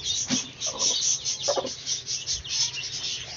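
A brooding hen sitting on her eggs gives soft, irregular clucks at close range, a few short grunting calls scattered over a steady background hiss.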